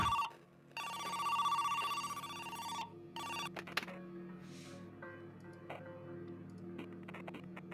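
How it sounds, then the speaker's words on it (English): A telephone rings in the video game Who's Lila?, a loud trilling electronic ring lasting about two seconds, followed by a shorter burst, then faint clicks and a low hum. "Why aren't you answering the phone they gave you?"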